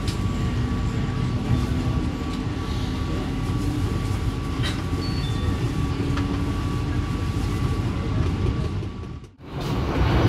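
Jayabaya economy New Generation passenger train rolling on rails, heard from inside the carriage as a loud, continuous rumble with faint steady hum, no talking, briefly dropping away near the end.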